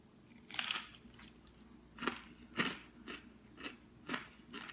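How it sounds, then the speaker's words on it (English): Crisp bites into a microwaved California Pizza Kitchen crispy margherita flatbread pizza: about six separate crunchy bites at irregular intervals, close and fairly quiet. "Good and crunchy."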